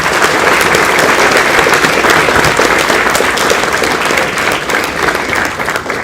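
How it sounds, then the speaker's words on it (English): Audience applause at a university session with a guest space scientist, dense and loud, sustained for the whole stretch and easing slightly toward the end, with no voices over it. "May I request a final round of applause for the session and for this one."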